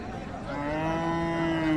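Cattle lowing at a rural livestock market, Raniganj haat, where desi cows with calves are sold; one long, rising moo swells to a loud, sustained tone near the microphone over faint crowd background.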